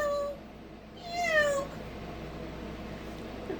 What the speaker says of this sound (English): That sounded like a cat no more.